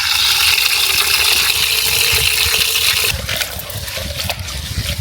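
Running water pours steadily over a bowl being washed, close and continuous for about three seconds before easing to a slightly softer trickle and splash.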